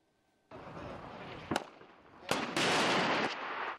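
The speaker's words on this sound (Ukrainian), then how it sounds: "Українські десантники відпрацьовують застосування американських та британських гранатометів" Grenade launchers fired during military training, a few sharp blasts and cracks with bursts of rushing noise between them, moderately distant and with no talk.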